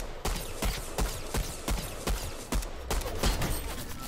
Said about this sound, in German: Oh, jetzt schieße ich auf den Bot, Mist.